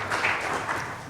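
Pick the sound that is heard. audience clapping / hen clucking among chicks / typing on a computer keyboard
audience clapping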